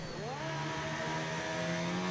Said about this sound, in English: Car sounds horrendous.